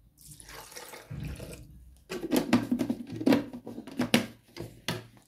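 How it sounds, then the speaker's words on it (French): Water is poured into a bean batter for akara fritters, making a soft trickling and splashing with a brief pour followed by uneven gurgles and drips, close and moderately quiet. "Je vais rajouter un peu d'eau, chose que j'ai oublié."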